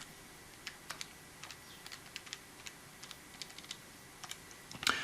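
Calculator keys pressed one after another in a quiet room, a string of faint, light taps at an irregular pace with no talk.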